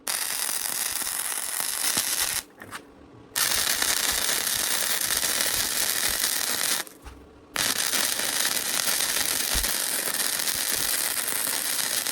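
Loud, continuous crackling buzz of a welder fusing metal for a 55-gallon barrel wood stove, broken by two brief pauses before the arc resumes.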